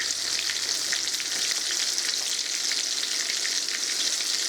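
Cod fillets pan-frying in a skillet produce a loud, dense, continuous sizzle that stays even from start to finish, close up and with no talking over it.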